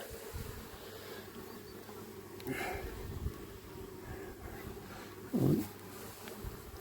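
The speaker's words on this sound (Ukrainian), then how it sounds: "Бджоли активно несуть" Steady insect buzzing from many honeybees around a hive fills the scene, a continuous low drone with brief louder passes as individuals fly close.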